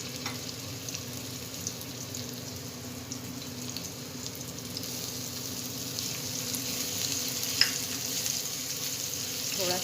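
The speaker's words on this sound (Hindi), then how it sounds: "थोड़ा सा हम इसे फ्राई करेंगे" Garlic-ginger paste frying in a pan with a steady, even sizzle that holds for the whole stretch, close and moderately loud, with one brief sharper pop near the end and no talking.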